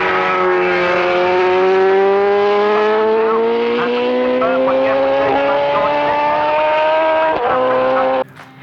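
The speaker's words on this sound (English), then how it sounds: "high revving engines" A high-revving road-racing motorcycle engine, an inline four, climbs steadily in pitch as it winds up, loud and close. It cuts off sharply near the end.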